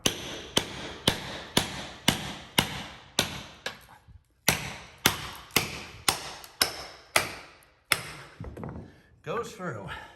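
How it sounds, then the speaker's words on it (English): A sledgehammer pounds a wedge under floor tile to pry it up, about a dozen sharp, evenly spaced metallic blows, loud and close, ending with a scrape of breaking tile. "Wedge, wedge, wedge, over and over again until you get all the tile up."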